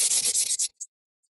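Wood being hand-sanded after hot branding with a branding iron: rapid back-and-forth rasping strokes, close and fairly loud, then a final short stroke and silence.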